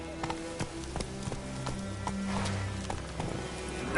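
Hoofbeats of Roach, a video-game horse, clip-clopping at a brisk gallop with a steady rhythm, together with low in-game ambience and tonal hum, ending in a louder burst.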